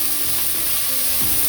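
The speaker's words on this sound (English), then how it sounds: "I'm going to saute everything here" Vegetables, carrot, onion and green onion, sizzle steadily in oil in a pot over low flame, a continuous close frying hiss with faint stirring scrapes and no talk.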